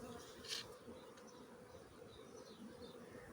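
Honey bees buzz around a queen bee isolator at a hive, a soft continuous droning swarm with a few individual bees passing close.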